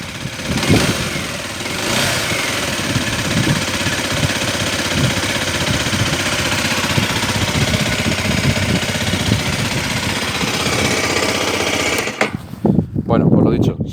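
A 2018 Aprilia SX 125 motorcycle engine runs loud and close with a rough, rattly idle and small revs throughout, cutting to clunks and handling noise near the end.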